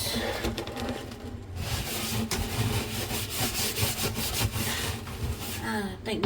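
Scrubbing roach-infested kitchen cabinets in a low-income apartment, a steady, close rubbing and scraping that continues without pause and with no talking.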